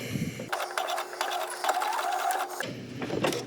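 A home sewing machine stitches fabric at a length-3 stitch with yellow thread, a steady close mechanical whirring run of about two seconds, with a quieter pause before and after.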